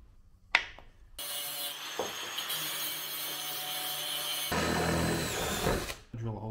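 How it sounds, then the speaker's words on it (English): A power drill bores a hole through a big chunk of steel while building a cheap upgrade for a manual tire changer, a loud steady whine running for several seconds with a brief stop and restart, after a sharp knock near the start. "Drill a hole in the center"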